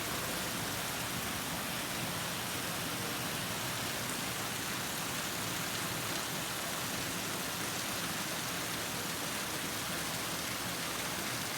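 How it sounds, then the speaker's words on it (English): Heavy rain from Hurricane Oscar falls as a steady, dense hiss that stays even throughout. The downpour is unbroken, with no voices over it. "the rain is needed, and it's coming down heavy, probably for 20 minutes now."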